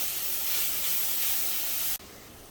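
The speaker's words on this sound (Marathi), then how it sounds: "आणि आपण जे कच्चा पपई जो किसून घेतलाय तो आणि मिरच्या आणि मीडियम फ्लेमवर आपल्याला अगदी अर्धा मिनिटभर हे परतून घ्यायचं आहे सगळं" Grated raw papaya and green chillies sauté in a pan over a medium flame, making a steady, fairly loud hiss that drops suddenly toward the end and settles into a lower, even hiss.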